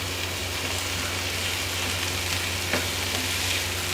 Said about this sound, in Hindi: इसको हमने इसमें अच्छी तरह भूनना है